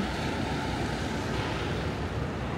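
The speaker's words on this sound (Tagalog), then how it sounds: "Sobrang lakas ng alon" Strong ocean waves surge as a steady, loud broadband roar with no clear breaks, mixed with wind buffeting the microphone. No voices are heard.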